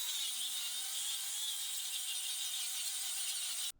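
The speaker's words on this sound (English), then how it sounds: "The first thing I needed to do was clean my metal off using a flat disc sander." A flat disc sander grinds rust off scrap metal pieces, a steady, loud, high-pitched abrasive whine held for several seconds before cutting off abruptly near the end.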